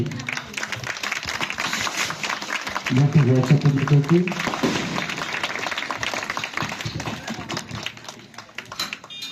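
Church crowd applauding at a ribbon-cutting for a shrine's inauguration, a dense steady patter of clapping mixed with voices and a brief tonal burst of song or music midway.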